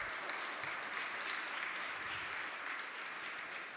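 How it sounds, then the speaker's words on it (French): An audience at a panel discussion applauds steadily, a dense, even wash of many hands clapping together that stays level throughout at a moderate distance. "Ça mérite des applaudissements"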